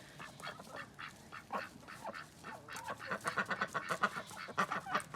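Ducks quack repeatedly on a farm during evening chores, a busy cluster of close, overlapping calls that grows denser and louder toward the end, with other fowl nearby.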